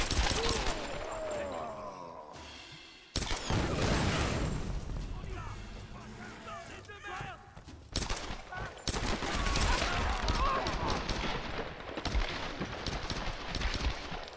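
Burst-fire gun in the Tomb Raider game, set in a shantytown level: repeated loud rapid bursts of gunfire, broken by short pauses, with a voice talking at times between and over the shots.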